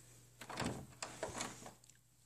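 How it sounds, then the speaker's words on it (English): A bathroom door swinging open at home, a few close thuds and a soft scraping slide over about two seconds, fairly quiet with a low hum underneath. "So as we open the door,"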